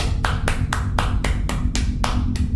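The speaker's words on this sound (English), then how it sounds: "Round of applause, everyone." Sharp, evenly spaced hand claps, around nine in a row, over a constant low rumble of background noise.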